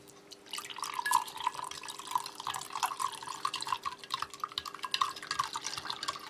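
Water poured from a container into a glass to mix an MRE drink powder, a continuous close trickle with bright splashing that rises in pitch as the glass fills, with no talking.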